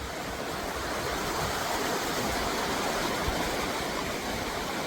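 A small river running beside a bungalow, a steady, dense, continuous rush of flowing water heard close and fairly loud, with no voices.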